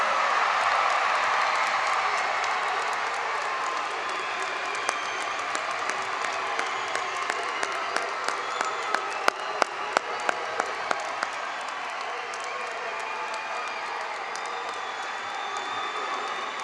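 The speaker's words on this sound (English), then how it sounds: "How about a round of applause for our 2018 graduates?" A large crowd at a 2018 William Penn graduation ceremony claps and cheers for the graduates in a sustained, loud roar of applause. A few sharper individual claps stand out midway before it settles into a steady, fading rumble.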